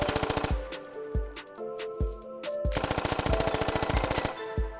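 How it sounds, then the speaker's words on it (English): Machine gun firing in the video game Squad, long rapid automatic bursts broken by short pauses, loud and close, with no talking. "Automatic riflemen and machine gunners carry a machine gun like this to the field."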